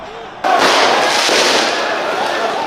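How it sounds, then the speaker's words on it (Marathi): Fireworks and firecrackers burst during a street celebration by football fans across France after a match, a loud, dense crackling roar that begins abruptly and continues without a break. "संपूर्ण फ्रान्सभर जोरदार आतषबाजी फटाके नाचगाणी असं सारं काही चाहत्यांनी केलं"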